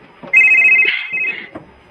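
A telephone rings with an incoming call in a radio drama, a single bright electronic ring lasting about a second, loud and close, followed by a short soft knock.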